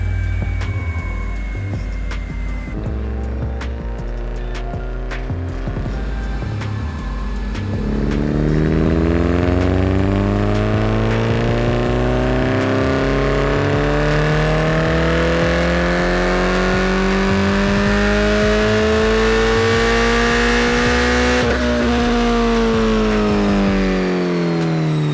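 A red Scion FR-S runs a baseline pull on a chassis dyno indoors. It idles briefly, then its engine climbs in one long, loud, rising rev that holds near the top before easing off, with no voices.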